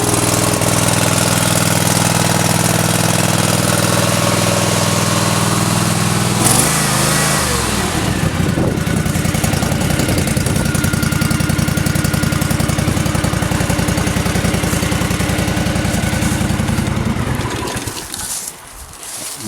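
A Cub Cadet zero-turn mower's engine runs steadily for nearly the whole stretch, loud and close, with a shift in its note partway through, then cuts off near the end.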